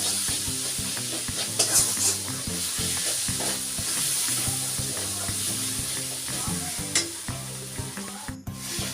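Spice masala for chicken kosa frying in a pan, a constant loud sizzle broken by repeated scraping and stirring strokes against the pan and occasional clanks, no voices.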